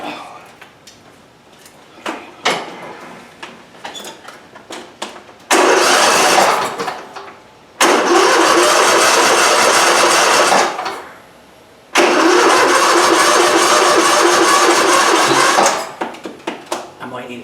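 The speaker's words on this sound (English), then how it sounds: "we got the engine back in the tractor, and I think we're all hooked up, and it's time to see if it wants to cooperate now" A Briggs V-Twin engine in a riding tractor cranks and fires, roaring loudly for a couple of seconds, cutting out, then restarting and running steadily for several seconds more before dropping away, with people talking between runs.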